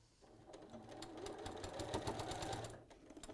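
A sewing machine stitches back and forth over a cord, a steady close mechanical whirr of rapid needle strokes that runs almost the whole way through and stops briefly near the end.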